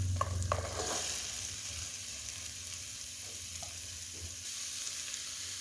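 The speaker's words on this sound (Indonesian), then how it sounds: "Tumis bumbu halus sampai matang. Kemudian masukkan sayurannya." Spice paste and vegetables sautéing in a pan for a stuffed tofu filling, a close, steady sizzle with a few spatula scrapes near the start.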